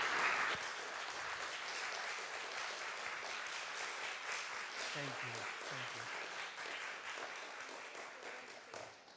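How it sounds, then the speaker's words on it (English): Audience applause at a church forum, loud and sustained dense clapping that slowly fades, with a voice saying brief thanks over it. "A big round of applause."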